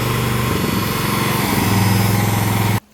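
Small engine held at full throttle, a loud, steady buzzing drone with a slight rise in pitch partway through, ending abruptly as the engine cuts out.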